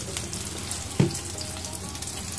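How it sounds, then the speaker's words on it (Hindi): Garlic and ginger paste frying for a shahi paneer curry, a soft even sizzle with one brief sharper spatter or tap partway through, close and fairly quiet, no speech. "अब इसमें हम लोग लहसुन और अदरक का पेस्ट डालेंगे।"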